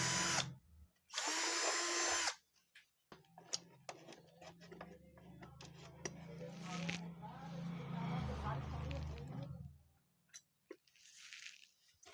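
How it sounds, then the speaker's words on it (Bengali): A power drill bores a hole in the tail panel of a Glamour motorcycle in two loud, whining bursts near the start. Scattered clicks and handling knocks follow, with a voice talking over much of the rest. "যেহেতু আমাদের ওদিক থেকে ফুটা করতে অসুবিধা হচ্ছিলো সেই জন্য আমরা ফুটাটা এদিক থেকে করে নেবো"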